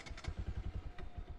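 A Bajaj Pulsar NS200 motorcycle idles in neutral, its single-cylinder engine thumping in a fast, even pulse at close range, with a few metallic clatters over the rhythm.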